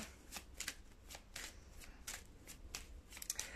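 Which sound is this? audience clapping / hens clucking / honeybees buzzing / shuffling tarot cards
shuffling tarot cards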